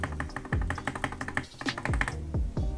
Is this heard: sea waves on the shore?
no